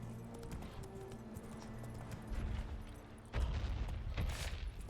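Horse hooves in The Witcher 3 on the Skellige isles, a steady clip-clop of trotting that grows louder and heavier toward the end, with faint ambient game sounds behind and no talking.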